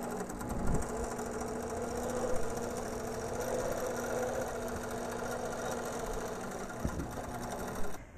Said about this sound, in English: now I'll quilt with my channel lock all the way down.